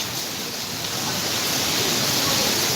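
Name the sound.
heavy rain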